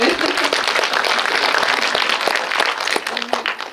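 An audience at a film screening Q&A for the movie Cassiopeia applauds the absent actor Ahn Sung-ki, a sustained, fairly loud patter of many hands that tapers slightly near the end.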